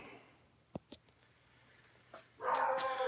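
A puppy lets out a couple of faint, short yips, then a louder burst of barking near the end against a quiet background.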